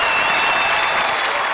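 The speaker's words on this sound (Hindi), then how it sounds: "तालियां उनके लिए भी" Studio audience applause on a Hindi TV comedy show, a steady dense wash of clapping filling the whole stretch without pause.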